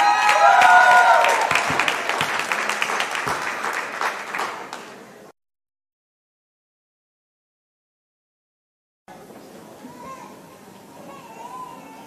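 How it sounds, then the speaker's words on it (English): A concert crowd at a university reunion show applauds band members Tony, Stevo, Ryan and Barry; dense, loud clapping with cheers and children's voices that cuts out abruptly, followed after silence by quieter crowd murmur. "So give a big round of applause to Tony,"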